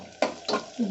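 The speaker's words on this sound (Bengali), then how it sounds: "পেঁয়াজটা ভাজছে" Onions frying in a pan give a brief burst of scraping stirs and light sizzling, heard close up in under a second.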